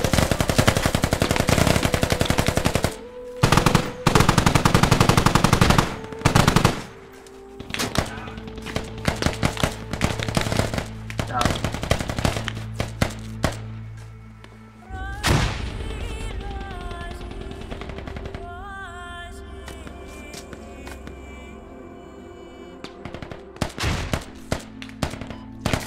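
Rapid automatic gunfire in the military shooter game Squad during a castle defense, loud bursts and rattling volleys close by with scattered single shots and gaps, followed by more distant crackling fire.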